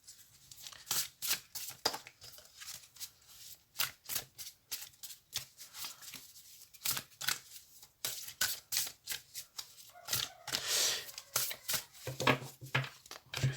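Cards from a shamanic oracle deck being shuffled and cut, a steady run of crisp riffling flicks and soft slaps heard close and alone, with a denser burst of handling near the end.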